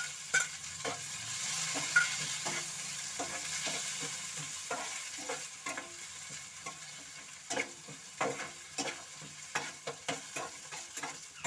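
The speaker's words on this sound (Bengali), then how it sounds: "এখন এই পেঁয়াজ কুচিটা দেবো, থেতো থেতো করে রেখেছি পেঁয়াজটা, এটা দিয়ে দেবো।" Crushed chopped onion fries in a pan with dried red chillies, a soft continuous sizzle broken by repeated scraping strokes of a spoon stirring close by.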